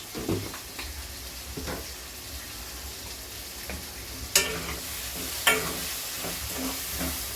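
Tomatoes cooking with salt in a pan give off a steady low sizzle and bubbling. A few sharper clinks and scrapes of a utensil stand out near the middle. No voices.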